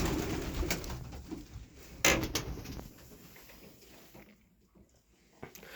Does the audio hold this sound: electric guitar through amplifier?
no